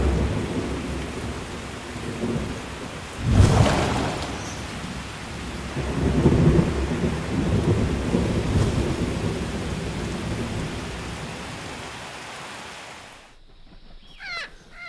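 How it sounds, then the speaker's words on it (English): Heavy rain pours steadily in a tropical wilderness during a thunderstorm, with a loud, close crack and rumble of thunder early on and another rolling rumble midway, the downpour easing and fading near the end. "This area is also known for its frequent rain and thunderstorms."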